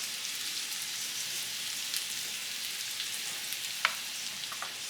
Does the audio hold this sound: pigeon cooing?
no